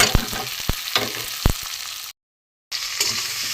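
Spices, chopped red chillies and ginger-garlic paste frying in a pan for a haluya fish curry, a close hissing sizzle broken by a few sharp spatula knocks, then a short dropout before the frying resumes.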